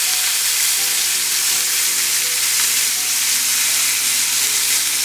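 Pork chops in a ginger tamarind marinade fry in a pan, giving a loud, steady sizzle and hiss that runs without a break from start to finish, with no voices over it.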